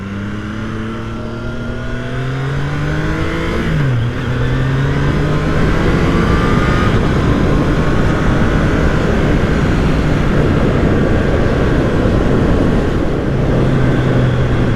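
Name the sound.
wind and engine noise riding a Triumph Tiger Sport 660 motorcycle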